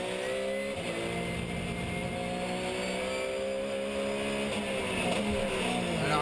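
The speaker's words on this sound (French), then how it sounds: "Alors que ça fume très fort, hein, sur la voiture de Sacha Botman" Porsche Carrera Cup race car at Navarra, smoking heavily and leaking fluid, its engine droning loudly and steadily with shifting harmonic tones throughout, no voices.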